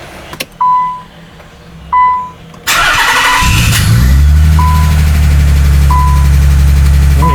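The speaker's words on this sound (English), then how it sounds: "You can hear that lifter tap" A twin-turbo Nissan 300ZX is cranked after a few beeps and catches, settling into a steady, loud idle with a faint lifter tap riding under the engine note, and no one talks.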